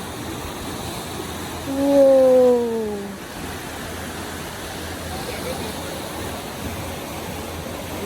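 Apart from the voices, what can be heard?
river water flowing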